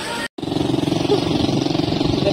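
A motorcycle engine runs up close with a loud, steady, pulsing rumble after a brief cut-out at the start.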